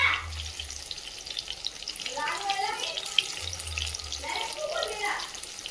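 Chillies fry in hot oil with a steady crackling sizzle, broken by brief bursts of louder bubbling. A low hum runs underneath.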